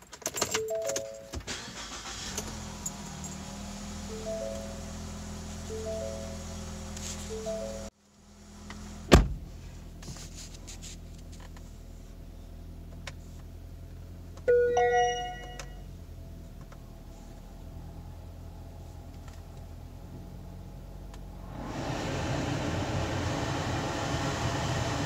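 A 2015 Ford Fusion blower motor runs after its squirrel cage was cleared of a stuck rubber gasket, giving a steady low hum with clicks and a brief clunk, then the fan surges to a louder, broad airy whoosh near the end.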